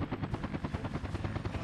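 Helicopter rotors thumping steadily as the aircraft flies in the city-building game Workers & Resources, a continuous pulsing beat heard alone and fairly close.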